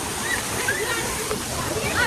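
The Kangthi Langso waterfall flows in a steady, broad rush of falling and splashing water, loud and continuous, with faint voices mixed in the background.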